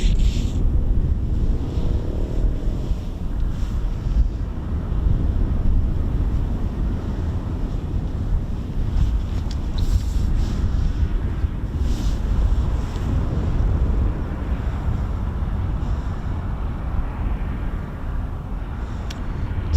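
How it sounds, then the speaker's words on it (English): Wind at an RAF airfield roars steadily across the microphone, a loud continuous rumbling buffet with no talk, lasting the whole stretch. "The wind's definitely blowing more towards me from here."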